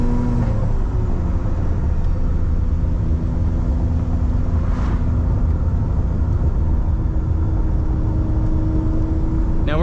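A Ferrari 575M Maranello engine rumbles steadily from inside the cabin, with a shift near the start and a blip near the end. The drone stays loud and continuous with no talk.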